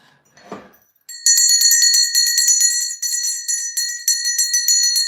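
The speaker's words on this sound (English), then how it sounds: "Ring that bell for all my lovely people." A bell rings out in a botanica shop after a brief rustle, sustained bright metallic chiming with repeated strikes that ring on loudly and closely for several seconds.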